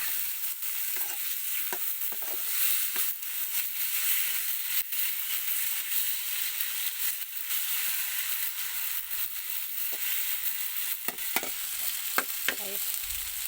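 Potatoes fry in a pan with a bright, steady sizzle while a spatula stirs and scrapes through them, giving a run of sharp knocks and clatters, busiest near the end.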